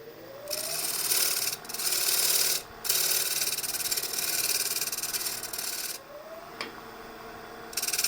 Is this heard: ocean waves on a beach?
no